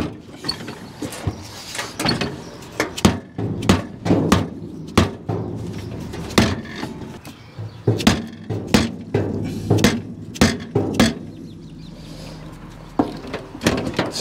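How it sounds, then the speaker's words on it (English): Sharp metallic knocks strike repeatedly at an uneven pace, loud and close, with clanking and rattling between the blows. "When in doubt, hit with hammer."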